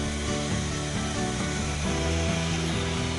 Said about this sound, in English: The TS75 makes once difficult bevel cuts fast and simple.